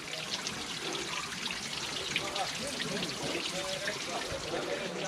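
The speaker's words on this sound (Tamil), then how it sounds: "இல்லை எப்படி தண்ணி வருதுன்னு பாருங்கள்" A mountain spring on a hill trail runs in a steady, soft trickle and splash, fairly faint and continuous with no talk over it.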